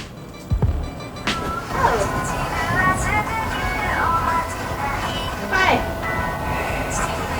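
Rumble and rattle of a train running through Chichibu, Japan, with squeals and clatter from the cabin and people talking inside the carriage.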